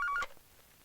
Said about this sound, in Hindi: उनका फोन आ गया।